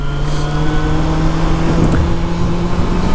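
A motorcycle engine drones steadily while riding, a loud continuous low hum with a sustained tone and rushing noise, no clear changes in revs.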